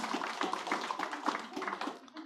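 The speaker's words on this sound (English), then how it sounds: "let's give them a round of applause anyway" A brief, thin patter of clapping from a small conference audience, lasting a couple of seconds before fading out.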